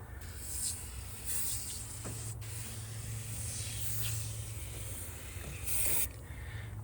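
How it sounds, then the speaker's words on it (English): Soft hissing bursts of a spray bottle spraying cleaner on a 2016 Volkswagen GTI engine bay, several short squirts spaced apart, close by in direct sunlight over a low steady outdoor hum. "I'm gonna keep spraying this down"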